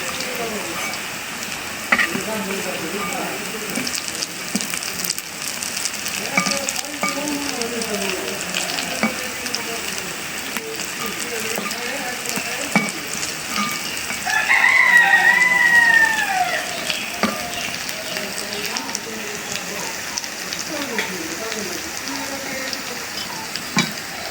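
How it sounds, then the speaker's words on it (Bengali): Steady crackling sizzle of grass pea lentil fritters frying in oil over low heat, continuous and close, with a brief louder burst partway through and faint voices underneath. "কম জালে বড়াগুলি ভাজতেছি"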